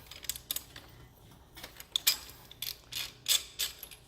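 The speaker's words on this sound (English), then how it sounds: "now we can take the 22mm and loosen our axle" Wrench working a 22mm axle nut loose on the front wheel of a Kawasaki KX450F dirt bike, giving a series of short metallic ratcheting clicks and scrapes in irregular bursts, close up with no talking.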